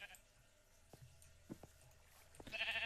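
A sheep bleats in Minecraft, a short electronic bleat rising near the end amid cave ambience and scattered game clicks and footsteps.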